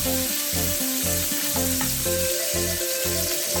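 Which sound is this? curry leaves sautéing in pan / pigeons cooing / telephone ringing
curry leaves sautéing in pan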